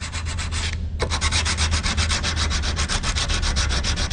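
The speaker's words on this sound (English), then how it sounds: "get some fine emery and polish it a bit." Steady back-and-forth rubbing of fine emery cloth polishing the action face of a British side-by-side shotgun, a continuous rhythmic scrubbing with a brief pause near the start, close and fairly loud with no talking.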